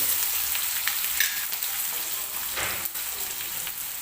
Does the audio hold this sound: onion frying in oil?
yes